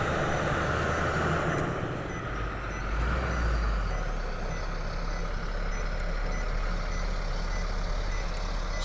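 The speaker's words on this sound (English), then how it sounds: "Excuse the diesel truck sound." A diesel truck climbs a hill near a ranch road, its engine a steady low drone with a heavier throaty swell partway through, while faint backup beeps sound far off in the open air.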